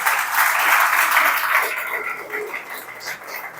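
A church congregation claps together during a Portuguese-language worship service, a dense, steady wash of applause that is loudest at first and then gradually thins and softens.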